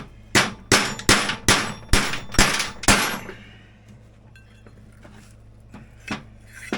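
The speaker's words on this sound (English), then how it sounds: "back to beating on this bushing." Hammer blows ring out on a steel bushing in a vintage Polaris P85 snowmobile drive primary clutch: seven loud, evenly spaced metallic clangs, then a quiet stretch with a couple of lighter taps near the end.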